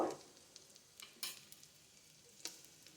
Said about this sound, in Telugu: ఇది తాలింపు వేగింది.